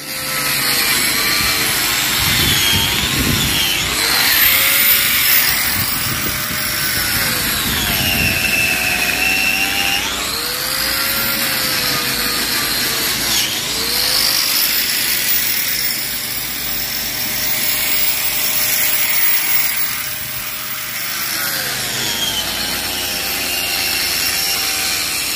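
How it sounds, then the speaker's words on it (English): A power tool grinds a slot into brickwork with a dense, continuous, rasping roar that rises and falls as the blade works along the cut, steady and close for the whole stretch with no talk. "I'm now just cutting a slot into the brickwork to insert the steel"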